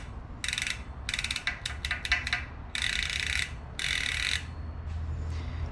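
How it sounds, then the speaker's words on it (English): Bontrager Rapid Drive hub on a 2021 Trek Fuel EX 7 freewheeling, its steel pawls clicking rapidly against the drive ring in several bursts of fast buzzing ratchet clicks, close and clear with no talking. "there's a small ratchet system using these little pawl and springs. Essentially just clicking against a steel drive ring"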